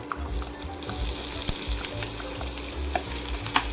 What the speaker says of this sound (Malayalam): ഇനി നമ്മളതിലേക്ക് ഇഞ്ചി വെളുത്തുള്ളി കൂടെ ചതച്ചത് ചേർത്ത് കൊടുക്കുക.